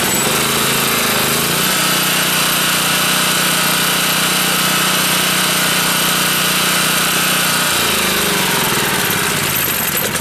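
Portable generator converted to run on propane or natural gas, its engine running steadily and loud throughout after a richer-mixture first start, with the pitch settling a little near the start and again toward the end.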